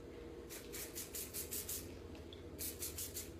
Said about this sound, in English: I'm just gonna take the spray